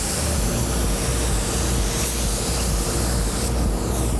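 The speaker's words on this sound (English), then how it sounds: "We actually just clear coated the headlight." A spray gun applies clear coat to a car headlight in a collision repair shop, giving a steady, close, continuous hiss with no pauses.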